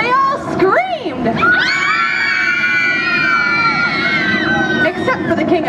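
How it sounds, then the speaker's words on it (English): A crowd of children screams loudly and at length during an outdoor storytelling performance in a park, high shrieks and shouting layered over chatter for several seconds. "when everyone saw this dragon, they all screamed."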